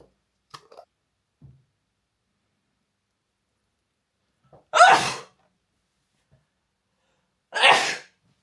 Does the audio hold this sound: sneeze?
yes